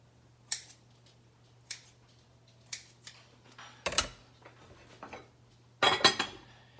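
A knife scores risen Hawaiian sweet bread dough in a few sharp, separate strokes, each a brief crisp scrape or click spaced about a second apart, close and fairly quiet, with no talking.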